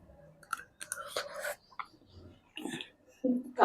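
Sweet rice with small coconut pieces being tasted and chewed while still hot, giving close, soft wet chewing and mouth sounds in short bursts with brief pauses between.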